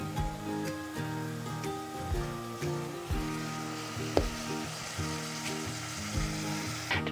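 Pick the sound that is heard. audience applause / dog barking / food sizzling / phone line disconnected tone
food sizzling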